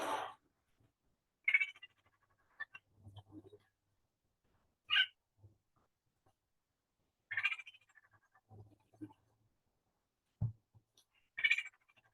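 A series of short, harsh rattling calls from a female pinyon jay repeat at irregular intervals, isolated against near silence, with a few softer low notes between them.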